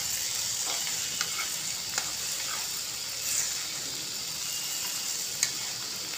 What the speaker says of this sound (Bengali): এবার ডিমটাকে আমি ভেজে দেব।